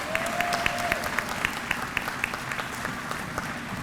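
A large commencement audience claps steadily, dense and even applause filling the space with individual claps popping out, sustained throughout with no speech.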